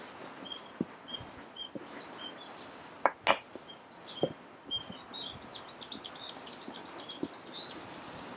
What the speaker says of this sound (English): Certainly you can hear the wind and the birds